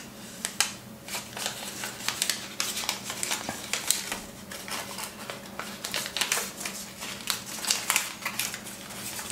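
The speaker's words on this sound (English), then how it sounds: "now you're going to make a mountain fold along this line here" Paper is creased and folded into an origami hippo, with close crisp crinkles and sharp tapping folds coming in irregular clusters, no talk over it.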